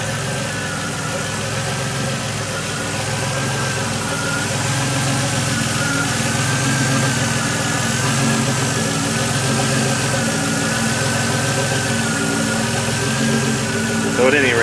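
A DeLorean engine idles in its engine bay with a suspected vacuum leak, a steady close mechanical hum and drone holding evenly throughout.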